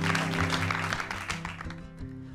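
A studio audience applauds a singer, a dense, steady wash of clapping layered over low sustained musical tones, loud and continuous throughout.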